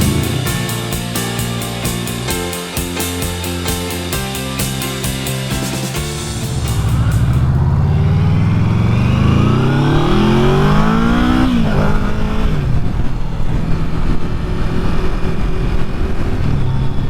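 A Yamaha VMAX motorcycle engine pulls hard while riding, first a steady loud drone, then a rising howl through the revs with a gear change, close and loud, alone without talk.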